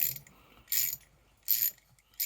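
Ratchet wrench from a Wilko 95-piece roll-up tool set clicking in tightening mode, close and crisp, with four short bursts of rapid ratcheting separated by brief quiet gaps.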